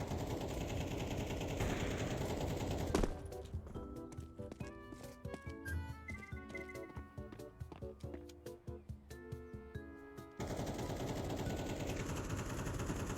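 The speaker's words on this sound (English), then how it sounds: "Why are you shooting?" Counter-Strike gunfire in bursts, sharp rapid shots in quick clusters, fairly close and punchy, interrupting a steady background hum for several seconds before the ambience returns.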